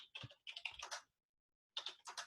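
Keystrokes on a computer keyboard as a file name is entered in a save macro dialog: two quick bursts of close, crisp typing split by a pause of about half a second, with no talking.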